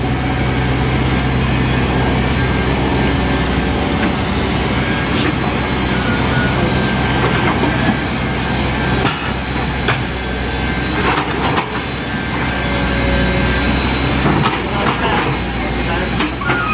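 A backhoe clearing ground and swinging around works with a loud, steady diesel roar that stays close and fills the whole stretch, with occasional clanks and small surges in the engine noise.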